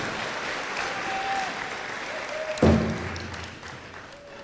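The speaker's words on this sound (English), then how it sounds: "Let's give him another round of applause." Applause from the audience at a 2023 graduation ceremony, a faint, steady wash of distant clapping, broken by one dull thud partway through, with no talk over it.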